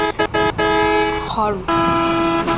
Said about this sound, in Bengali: তো আমি তোমাদের হর্ন বাজিয়ে শোনাই। দাঁড়াও, হর্ন শোনাই।